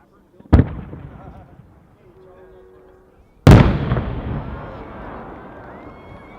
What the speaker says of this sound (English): it's also a 6-inch shell, but it's got 4 breaks of brocade, turbillions, and then color to heavy report